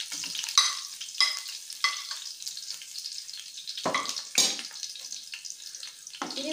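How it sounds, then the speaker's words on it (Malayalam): A garlic and ginger paste fries in oil for a koorka pickle as a spoon stirs it, making a crackling sizzle broken by several louder scraping strokes, close up, with no talking. "ഇനി നമുക്കിത് നന്നായിട്ട് ഇളക്കാം"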